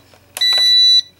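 Toy drone remote controller beeping: a couple of soft clicks, then one sharp, bright electronic tone held for about half a second, loud and alone.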